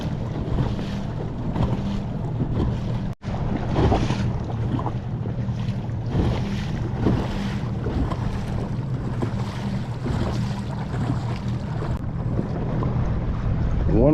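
A kayak driven by a trolling motor on a 100 Ah lithium battery runs through waves in steady wind, with a continuous low motor hum under loud wind buffeting and splashing water throughout.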